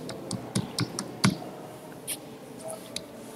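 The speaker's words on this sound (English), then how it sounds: "then you need to press enter on the keyboard" Several quick keystrokes tapped on a computer keyboard, scattered and fairly faint against a quiet room, with a louder clack near the middle.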